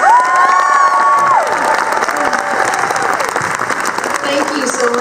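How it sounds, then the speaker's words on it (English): Audience applause and cheering at an evening gala honoring a Girl Scouts STEM group, loud dense clapping from a crowd with a shouted voice or two over it, easing slightly toward the end. "So please give a big round of applause to Girl Scouts Orange County STEM"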